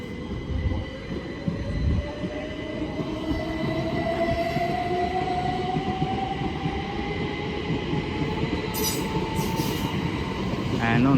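A C2C class 357 electric train pulls out of Barking station, its motor whine climbing steadily in pitch over a rumble of wheels, close and loud, with brief squeals near the end.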